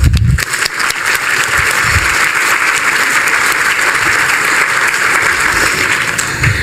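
Dense, sustained applause from the audience at a 2018 nursing pinning ceremony, a broad even wash of many hands that holds steady throughout, with a few low thumps near the microphone.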